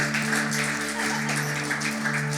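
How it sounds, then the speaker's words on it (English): A church congregation claps for the worship team during a Sunday service, a broad wash of applause at steady moderate level over a sustained musical hum from the stage. "Can we clap our hands for the worship team, for Jesus?"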